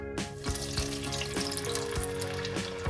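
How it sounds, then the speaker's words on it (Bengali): Mustard paste sizzles and spits as it hits hot mustard oil on a low flame, a steady crackling frying hiss with a few clinks of the pan running throughout. "এবার আমি ফ্লেমটাকে লো করে ছেঁকে নেওয়া সর্ষের পেস্টটা দিয়ে দিচ্ছি"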